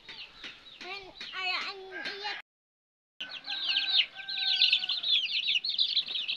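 Chickens clucking near a coop with a brooding hen, close repeated clucks and squawks broken by a short silence, then busier overlapping clucking and chirping.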